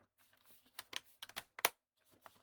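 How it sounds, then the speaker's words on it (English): Plastic cover of an HP computer being clicked into place, a quick irregular series of sharp snaps and taps, close and fairly quiet, with a louder click near the end. "We're just clicking the plastic."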